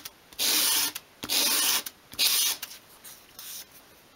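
Sandpaper strokes bevel the edge of a small wooden wall shelf at 1/12 scale, giving several rasping sweeps close up in an uneven rhythm, each lasting about half a second to a second, with short pauses between them.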